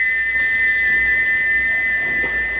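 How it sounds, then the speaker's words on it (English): A single sustained whistle from a steam engine holds one clear, piercing pitch without a break, loud and alone over a faint low rumble. "he wouldn't stop whistling until two fitters climbed up and knocked his whistle valve in place"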